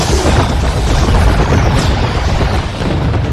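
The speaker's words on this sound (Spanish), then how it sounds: "más de 10 autos fueron brutalmente destruidos debido a una gran explosión ocasionada a propósito por McMissile" Huge explosion wrecking a group of cars in the animated film Cars 2, a loud, sustained roaring blast rumble with deep booming low end lasting throughout.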